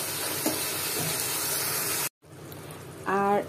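Mutton being stir-fried in a pan for a white korma: steady sizzling hiss fills the first two seconds, then after a brief cut a quieter sizzle continues with a short tonal clink or scrape near the end.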